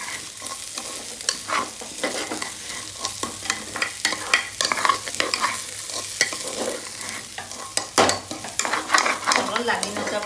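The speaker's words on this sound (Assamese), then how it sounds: "অলপ লাগি নাযাবৰ কাৰণে অলপ লৰাই থাকিব লাগে" Rice and vegetables for pulao fry in a pan and get stirred by hand. Irregular scraping and rattling strokes sound over a steady background sizzle, close and fairly loud, with no talking.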